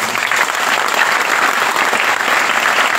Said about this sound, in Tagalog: Mukhang humina yung palakpak ninyo.